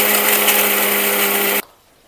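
An electric mixer grinds poppy seeds and coconut into a paste, a loud, steady motor whir with a droning hum that runs evenly and then cuts off abruptly, leaving near silence.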